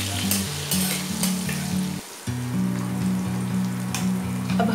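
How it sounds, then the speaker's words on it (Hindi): Chopped onion fries in a pan toward light golden brown for a cauliflower sabzi, giving a steady close sizzle with occasional stirring scrapes, over a continuous low tonal backing that dips briefly midway. "हम इस प्याज को हल्का गोल्डन ब्राउन होने तक फ्राई करेंगे"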